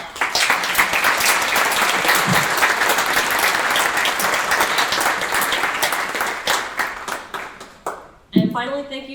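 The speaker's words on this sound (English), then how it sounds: "if we can give them a round of applause" A crowd at an evening speaker series event gives a round of applause for the event organizers, with full, steady clapping for about eight seconds before it fades out and a voice begins speaking.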